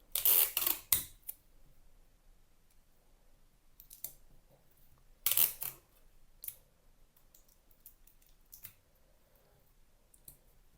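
Scissors snip through 12x12 acid-free cardstock in a quiet room, a couple of crisp clustered cuts early and again midway, with a few lighter clicks and faint handling noises between them.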